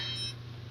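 A phone gives a short, high electronic beep that stops after a fraction of a second, fairly quiet over faint background hum.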